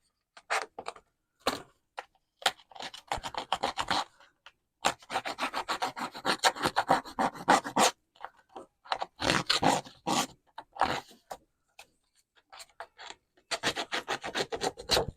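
Scissor blades scrape and rasp along the edge of a paper card to distress it for a shabby chic Valentine card, in repeated short bursts of dry rubbing broken by brief pauses.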